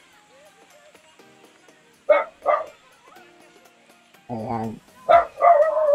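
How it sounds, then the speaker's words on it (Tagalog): A dog barks a few sharp times, close by, while a person speaks a word between the barks at a house visited on a road trip to Mascap. "may tumahol pang aso yan"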